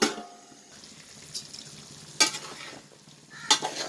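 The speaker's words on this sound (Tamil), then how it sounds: "கத்திரிக்காய் நல்லா வதங்கிடுச்சு" Brinjal frying in a pan for a cod dried fish curry: a steady soft sizzle broken by a few sharp scraping stirs of the spoon, close by and without voices.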